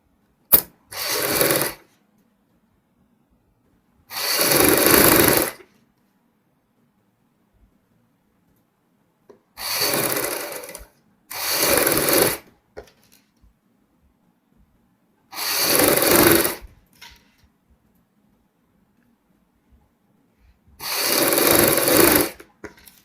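A sewing machine stitches the inner lining of a baby frock in six short, loud bursts of whirring, each about a second long and split by quiet pauses, with no talking.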